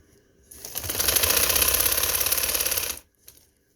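A sewing machine stitching a shirt sleeve, a rapid close mechanical whirr that ramps up, runs steadily for about two and a half seconds, then stops, followed by a faint click.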